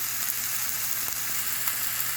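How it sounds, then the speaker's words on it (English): Olive oil crackles and sizzles steadily in a hot pan, a continuous frying hiss with small pops. "And in we go with some olive oil and see how we can get a little sizzle down here"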